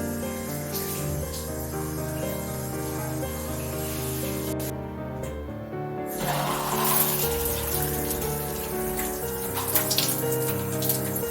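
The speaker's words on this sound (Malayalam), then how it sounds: "കഴുകിയപ്പോൾ ജസ്റ്റ് വെള്ളം ഒഴിച്ച് കഴുകിയതോളം" Water poured and running over cleaned bathroom toilet tiles, a steady splashing rush that briefly drops out before returning louder and more spattery, close and alone without talk.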